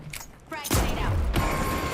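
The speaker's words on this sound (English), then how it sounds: "Frag grenade out." Frag grenade blast in the online shooter The Finals, a single heavy boom that hits abruptly after a quiet moment and rumbles on, with a brief bit of game noise before it.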